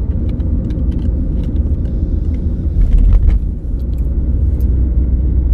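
A car driving along during a French driving lesson, its engine rumble steady and loud throughout, rising briefly in the middle as it accelerates, with small clicks and rattles on top.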